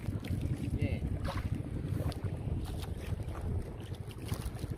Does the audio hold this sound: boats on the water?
yes